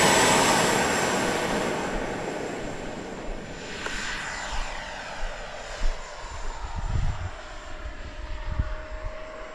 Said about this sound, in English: Okay, we'll take off with a little bit of flap.